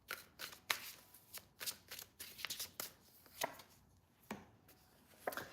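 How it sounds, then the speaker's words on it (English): A deck of cards being shuffled close up, several quick riffling bursts with short pauses between them, no talking. "I shuffled the cards"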